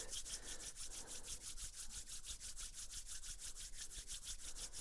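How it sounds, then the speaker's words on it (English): Palms of the hands rub briskly together in a steady, rapid back-and-forth rhythm of soft, close, dry swishing strokes, faint and alone. "Take the palms together and rub the palms."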